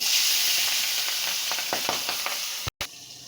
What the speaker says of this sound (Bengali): তেলে তো শিং মাছ ট্যাংরা মাছ এগুলো খুব ফাটে